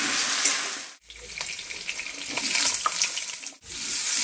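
Spice paste going into a pan of frying potatoes, with a steady close hiss of sizzling and stirring scrapes, broken by two brief silent gaps.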